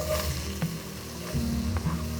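Onions hit hot oil in a pan and crackle in a steady, close sizzle for a couple of seconds, with light stirring knocks and no talking.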